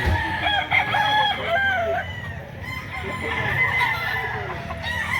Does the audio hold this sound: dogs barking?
no